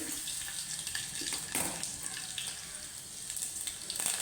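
Garlic, mustard seeds and curry leaves sizzle in oil as tempering for a Marathi tomato saar, a faint, steady crackling hiss with small pops, close up and quiet.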